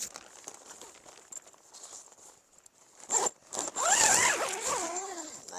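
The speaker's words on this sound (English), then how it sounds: "zip up your awning" A zipper on a car tent awning attached to a KIA Sportage is drawn closed, with quiet rustling of fabric first and then a loud, close, continuous zip in the final seconds.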